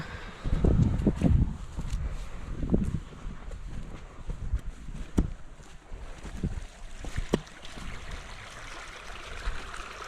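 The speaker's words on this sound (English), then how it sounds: "got water flowing out of it." Water splashes and gurgles steadily as it flows out of a culvert by a muddy road, with bursts of louder rushing and a few sharp knocks, no voices.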